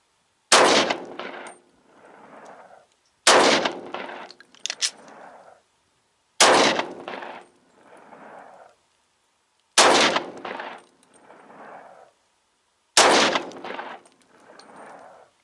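A Glock 31 Gen4 pistol fires hand-loaded rounds. Five loud, close shots come about three seconds apart, and each one is followed by a decaying echo.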